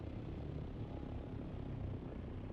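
Assault chopper in the desert survival game Dune: Awakening, a steady dense rotor and engine roar that holds constant and close throughout, with no change in pitch.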